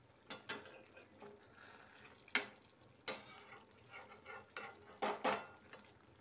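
Poppy seed paste (posto) cooks in a pan at home while a spoon stirs it, giving a quiet, soft sizzle broken by several sharp scraping and clinking strokes against the metal.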